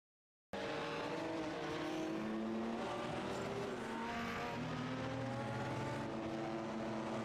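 A race car engine whines continuously in a racing video game, its pitch rising and falling through gear changes, with other cars droning underneath at a steady level.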